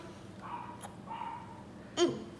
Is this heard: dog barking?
yes